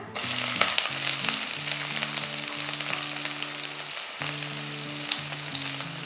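Chana dal fries in hot oil for tomato rice, crackling in a continuous close sizzle while a spatula scrapes and stirs at intervals; a faint tonal hum runs underneath.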